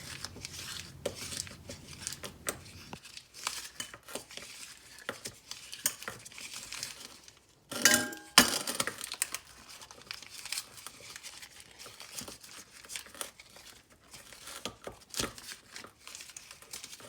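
Chilled ingredient grated by hand to sprinkle over a pie as topping, a close, soft, rhythmic rasping and scraping that repeats steadily, broken by a louder clatter partway through.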